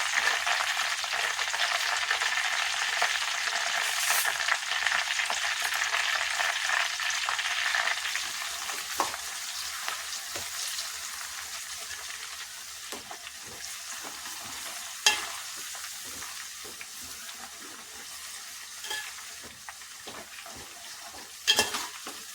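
Onion frying in oil for a homemade hibiscus hair oil, with a steady broadband sizzle throughout, strongest early on, overlaid with scattered clicks and a few sharper scrapes and taps of a utensil stirring against the pan.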